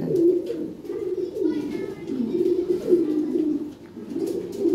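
Lahore pigeons coo in soft, repeated rolling phrases close by, a continuous series of throaty murmurs rising and falling in a steady rhythm.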